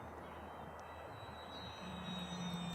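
A Durafly Tundra RC model plane drones past with a thin, steady electric motor whine over wind hiss, fairly faint and distant, growing slightly louder toward the end.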